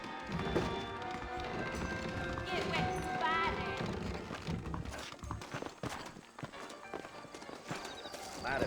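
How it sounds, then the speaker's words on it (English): Horse hooves clip-clop in the Red Dead Redemption video game, a steady walking beat mixed under music, ambient game sound and character voices. "I got the horses saddled up and ready out front."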